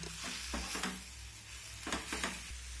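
Spices, vegetables and potatoes are stirred together in a hot pan, with soft scraping strokes over a low sizzle and a steady hum underneath. The sound is faint and close.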